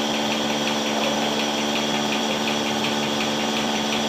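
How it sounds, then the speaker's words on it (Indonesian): A vacuum milking machine on a dairy cow farm runs steadily nearby, a continuous mechanical hum with a faint pulsing pattern and no talk. "dipakai mesin vakum ini untuk nyedot susunya"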